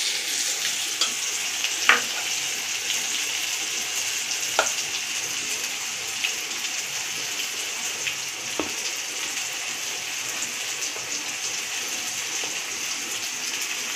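Gram flour (besan) being stirred into a yellow Maharashtrian kadhi curry in a pan, a steady soft sizzle and bubbling with occasional sharp scrapes of the spoon against the pan, no talking.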